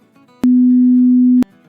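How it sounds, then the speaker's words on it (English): A pure 250 Hz sine test tone sounds for one second, steady and loud with nothing else present, switching on and off abruptly. "This is the sound of 250 Hz."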